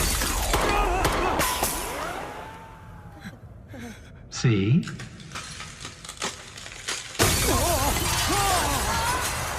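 Thick bulletproof glass shatters in an anime action scene, a sharp crash followed by scattering fragments, mixed with dramatic music, whooshing effects and a gasp, with a brief spoken line.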